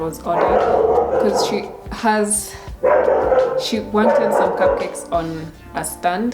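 Dogs bark loudly and repeatedly indoors in sharp bursts with some yips, overlapping someone talking steadily about a wedding cake order.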